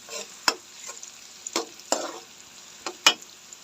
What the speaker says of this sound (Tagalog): Ayan, gisay na natin yung gulay.